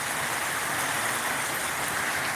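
Steady rain falling, a close, dense patter like applause that holds constant and loud throughout, with no voices.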